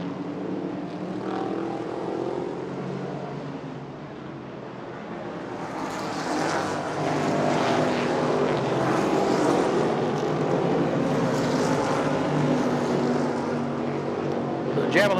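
Vintage race cars, including an AMC Javelin, Ford Mustang and Camaro Z28, battle at speed during a historic motorsports reunion, their engines roaring as a loud, steady wash that swells about midway through, under a commentator's voice.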